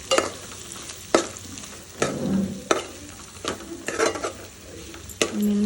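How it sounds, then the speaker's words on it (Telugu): Spiced vegetable pieces are stirred in a sizzling tempering, with a spoon clacking and scraping against the pan in a loose rhythm over a constant close frying hiss. "ఇప్పుడు దీన్ని మంచిగా కలుపుకొని"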